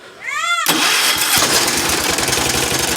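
A 212 engine gives a short rising whine, then roars loudly as the throttle goes from low to high and holds steady for a few seconds.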